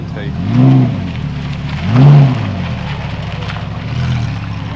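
Brand new performance cars pulling away from a car meet in Surrey, each one revving hard and surging past in a loud, close burst, three passes in a row with a steady idle rumble between them, while people talk nearby.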